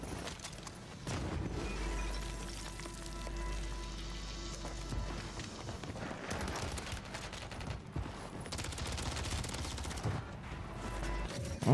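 Gunfire in Warzone rattles in repeated bursts over roughly twelve seconds, with crackling impacts and a low rumble underneath, some shots close and loud, others more distant.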